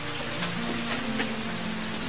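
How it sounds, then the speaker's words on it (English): Steady rain falls outdoors on farmland on a rainy workday, a constant close hiss of drops that runs alone without a break, with a faint low hum beneath. "rain, go away. Come back another day or later on today, perhaps."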